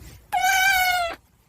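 A kitten gives a single clear, close meow lasting under a second, with quiet around it.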